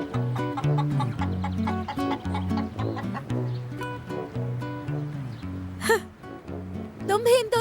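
Chickens cluck and squawk in a dubbed Urdu drama, with a few sharp bursts of fowl calls rising over a steady tonal music bed, near and fairly loud.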